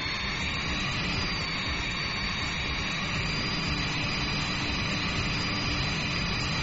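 Avro Vulcan jet engines throttled back in FlightGear, a steady even roar and hiss holding at the same level throughout with no voices.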